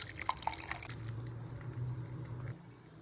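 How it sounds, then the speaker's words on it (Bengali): Milk poured into melted sugar caramel in a pan, beginning with a few quiet drips and splashes, then a soft, steady liquid pour with a low hum that stops near the end. "চিনিটা মেল্ট হয়ে গেছে, দুধটা ঢেলে দেবো।"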